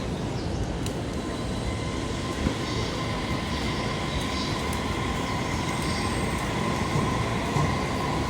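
A Tokaido line train pulls into platform 6 at Yokohama station. A continuous rumble of wheels and rail noise fills the busy platform, with faint squeals and clicks over steady background noise.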